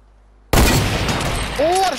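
A single loud gunshot in the video game Fortnite bursts in sharply after brief silence and rings out with a long decaying tail.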